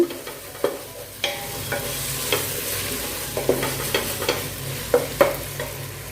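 Steady sizzling of tomato masala frying in a pan for chicken biryani, with occasional clinks and scrapes of a spoon stirring, no voices.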